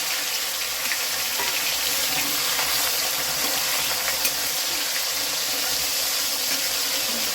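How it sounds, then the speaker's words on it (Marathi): Chicken pieces sizzle steadily in hot oil for a chicken fried rice dish, a dense continuous hiss close by with faint crackles and no voices. "आता ह्याच्यामध्ये तेल गरम झालेलं आहे। आता ह्याच्यामध्ये चिकन टाकायचं।"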